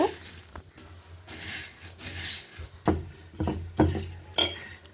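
Mixed lentils and rice being washed by hand in a bowl of water, with soft swishing and scattered clattering knocks of grains and vessel, quiet and close with brief gaps.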